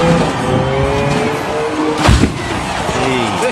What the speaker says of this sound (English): watch which car can accelerate the farthest off the hill and just smash to the gravel below